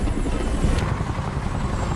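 A military helicopter in a Vietnam War film scene gives off a loud, steady rotor roar that fills the whole moment, close and continuous with no break.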